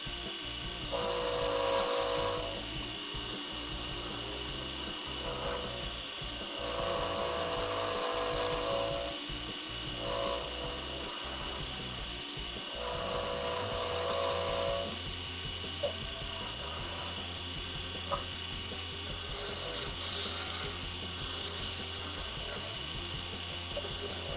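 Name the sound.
carbide scraper scraping wood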